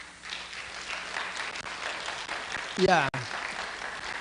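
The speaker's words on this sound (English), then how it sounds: "let's stand and clap for him" Audience applause at a theological seminary graduation ceremony, a moderate, steady clatter of many hands, with a voice speaking briefly over it.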